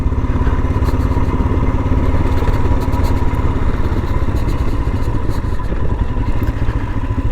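A Royal Enfield Himalayan motorcycle rides over washboard gravel on a dirt road, its engine droning steadily and loud throughout with a continuous rattle and clatter from the rough surface, no talking.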